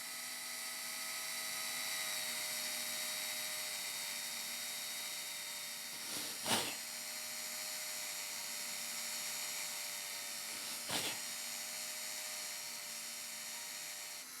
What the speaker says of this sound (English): Get your Dremel in at the right angle, and what I like to do is just do holes all along the length of the pattern.